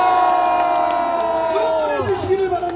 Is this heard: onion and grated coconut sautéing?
no